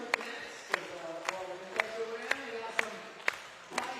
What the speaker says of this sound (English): Crowd rallying behind, myself included.